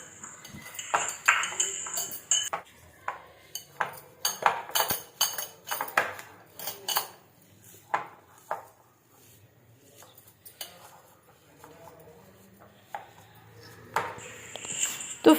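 Soya bean kebab mince is mixed by hand in a bowl, giving a series of irregular, fairly quiet clinks and taps of a utensil against the bowl with pauses between them.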